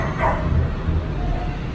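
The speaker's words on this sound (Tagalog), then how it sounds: "May aso pa dito." A dog barks in the near background of a busy street scene with a steady low rumble throughout and faint voices, the barks short and not prominent.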